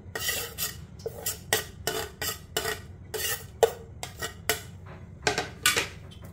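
Grated coconut, dry fruit powder and cardamom powder being mixed by hand in a bowl for modak, a run of short, uneven scraping and rustling strokes with occasional light clinks of the vessel, close and without talk.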